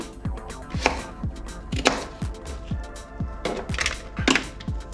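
Potatoes chopped into smaller pieces with a knife on a cutting board, a close, steady series of sharp knocks in an even rhythm, with no voices.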